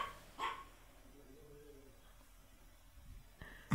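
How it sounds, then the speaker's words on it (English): Dogs bark indoors at home, two short, faint yaps spaced a few seconds apart against quiet room noise. "Stupid dogs."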